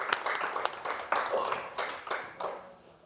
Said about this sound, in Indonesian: beri tepuk tangan buat Hesti Purwadinata